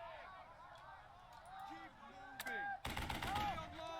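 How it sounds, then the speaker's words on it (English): Rifle and machine-gun fire erupts as suppressing fire in the Burden of Command tactical game, a sudden dense loud volley in the last second following quieter game sounds. "Suppressing fire!"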